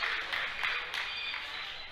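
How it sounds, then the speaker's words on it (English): Audience applause for a lifter at a classic raw bench press competition, a steady wash of clapping with a few louder claps standing out, filling the whole moment without a break. "Give her a big round of applause"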